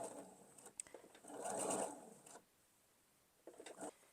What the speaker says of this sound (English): I am going to backstitch just a tiny bit